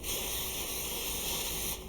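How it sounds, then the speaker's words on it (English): Cooking spray mists onto tin foil in one continuous, close, broadband hiss lasting nearly two seconds before stopping, coating the foil before fish fillets are laid on top. "we are going to take our cooking spray and we are just going to lightly dust the top of this"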